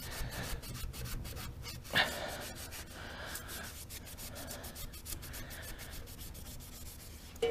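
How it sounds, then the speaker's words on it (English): Steady back-and-forth rubbing as oxide is scrubbed off the electrical contacts of a Miller CP-300 welder, quiet and close, with continuous scraping strokes and no talking. "You're just trying to take the layer of oxide off the surface is really all you're doing."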